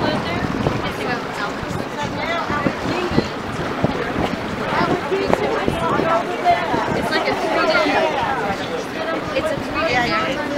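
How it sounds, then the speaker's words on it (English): A ship under sail moves out on open water, with rushing wind and water noise buffeting the microphone in a continuous roar. Voices talk over it. "We're in Sandal's ship. We're sailing away."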